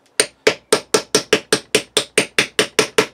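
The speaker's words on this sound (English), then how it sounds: "try to chisel off the lumps inside" A screwdriver is struck repeatedly to chisel lumps off a homemade metal sword, giving a steady series of about thirteen sharp, evenly spaced metallic taps close up.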